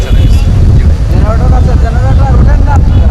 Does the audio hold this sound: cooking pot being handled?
no